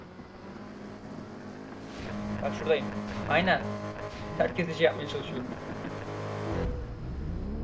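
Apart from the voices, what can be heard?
car engine in a racing video game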